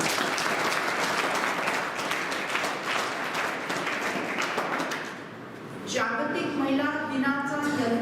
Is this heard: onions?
no